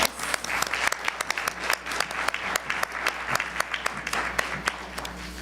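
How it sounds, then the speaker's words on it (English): Audience applause at a school board of education meeting, many sharp individual claps crackling steadily for several seconds over a low room hum, fairly distant and sparse rather than a thick roar. "Can we give them another round of applause?"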